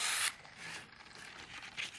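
A small pin dragged across a towel gives a soft, close rubbing scrape, one strong stroke at the start and then fainter continuous scratching, with no voices.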